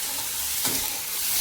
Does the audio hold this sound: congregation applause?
no